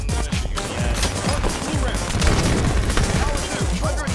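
Halo 5 multiplayer gunfire: rapid bursts of shots crackle and thud close by with no pause, dense and continuous throughout.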